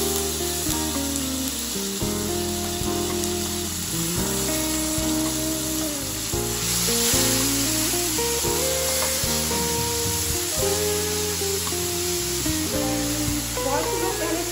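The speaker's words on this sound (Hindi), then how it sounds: "फिर पहले मैं टमाटर फ्राई करूंगी।" Tomatoes and dried chillies fry in a hot pan, giving a loud, constant sizzle and crackle throughout, while music plays underneath.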